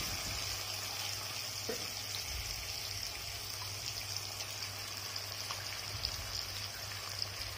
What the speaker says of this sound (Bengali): সেটা ধুয়ে পরিমাণ মতো জল দিয়ে দেব।